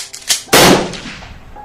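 A single loud, sharp gunshot-like blast with a brief rumbling decay, preceded by a couple of smaller thuds.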